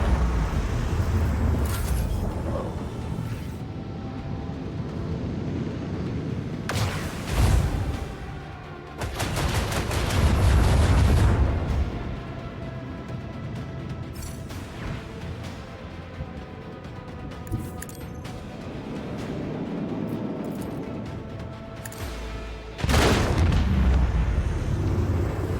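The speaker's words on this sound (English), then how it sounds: "I want to hear the macro cannon roar." Booming macro cannon blasts in Warhammer 40k: Rogue Trader, heavy bursts of gunfire and explosions over a dense, continuous rumble, loud and close.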